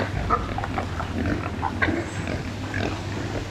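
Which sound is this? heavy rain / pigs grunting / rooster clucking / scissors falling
pigs grunting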